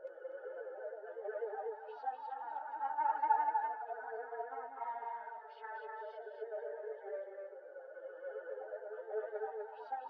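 A chorused, delayed vocal sample from Splice inside a hip-hop beat: a wavering, watery, hollow-sounding voice layer with echoing repeats, held steadily at a moderate level with a slight swell partway through.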